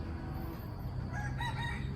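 A rooster crows loudly and close by, one drawn-out cock-a-doodle-doo rising over a low background rumble, with no talk.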